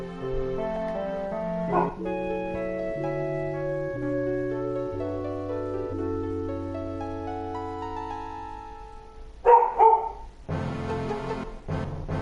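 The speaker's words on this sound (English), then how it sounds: "Oh my, that dog." A dog barks in a video game set in a fantasy role-playing world, a few short sharp yelps near the end that burst over steady background music.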